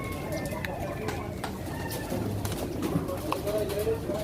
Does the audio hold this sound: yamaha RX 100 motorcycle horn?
no